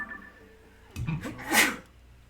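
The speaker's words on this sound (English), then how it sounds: "I'm sneezing a lot all of a sudden." A person sneezes twice in close succession during Tears of the Kingdom gameplay, a smaller sneeze followed by a louder, sharper burst, close to the microphone with quiet game audio underneath.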